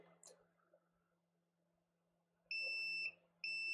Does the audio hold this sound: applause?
no